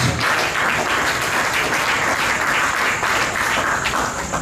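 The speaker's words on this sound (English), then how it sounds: "please clap for our dynamic players" Dense audience applause for a basketball team's players, a steady loud wash of many hands clapping together without let-up, with no voices heard over it.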